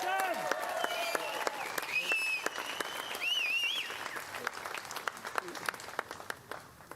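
Crowd applause at an outdoor political rally for Senator Malcolm Roberts on the Fraser Coast, a steady wash of clapping with whoops and cheers, tapering off toward the end while voices carry over it.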